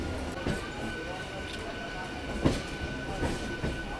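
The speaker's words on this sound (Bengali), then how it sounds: "বন্ধুরা আমাদের দীঘা স্পেশাল ট্রেনটা পাঁশকুড়া থেকে ছেড়ে দিল।" A local train to Digha rolls along the tracks after leaving Panskura, India, with a steady rumble and periodic clickety-clack of wheels over rail joints, heard from inside the carriage.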